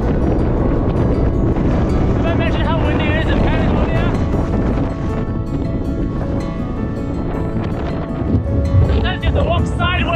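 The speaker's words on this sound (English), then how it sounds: "Talks about the wind in Patagonia, but you don't believe it until you get here." Strong wind in Patagonia on the O Circuit in Torres del Paine, a loud constant roar buffeting the microphone throughout, with a voice talking faintly under the gusts.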